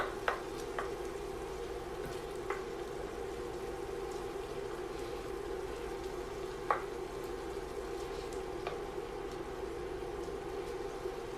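Ground beef sizzles and fries steadily in a pan, a constant crackling hiss with occasional sharp pops and light scrapes, close and alone without talk.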